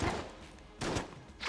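A sawed-off shotgun blasting in the top-down shooter Enter the Gungeon, three quick separate shots spaced under two seconds, fairly close and moderately loud.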